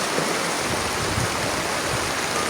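A swollen river rushes past during a typhoon flood in Samar, a steady broadband roar of flowing water that stays even and fairly loud throughout, with no talking.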